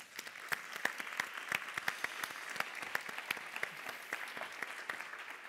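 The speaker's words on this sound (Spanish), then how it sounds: "Un aplauso para Laura." Applause for a speaker named Laura at a Spanish teachers' union conference, a small room of scattered, fairly faint claps that continue briefly and unevenly.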